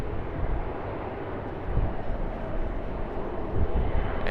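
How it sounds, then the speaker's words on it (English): A China Eastern Airbus A330-200 passes at Sydney Airport, a steady broadband jet roar that holds fairly even and swells slightly toward the end, with no voices. "There's the Airbus A330-200 of China Eastern."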